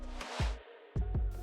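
A transition effect from Cody Pack in an RnB beat: a rising swell that cuts off abruptly, followed by two sharp deep hits and a final bright burst, loud and isolated.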